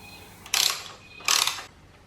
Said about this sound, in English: remove the two 12mm bolts on the right hand side